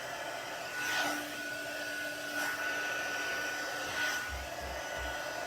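A handheld heat gun blows steadily while drying a surface, its broadband airflow hiss holding throughout with slight swells as it is swept back and forth, and a few low thumps near the end.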